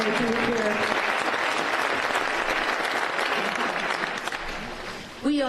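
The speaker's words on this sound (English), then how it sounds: "now I want you to give yourselves a big round of applause for saying yes, for being here and making it here" An audience at an event opening claps loudly and steadily with no break, the applause fading slightly toward the end before a voice cuts in.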